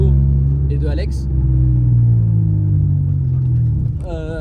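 Deep, muffled engine of a Japanese car, a steady low rumble holding close and loud throughout with a slight swell in the middle, while people talk over it.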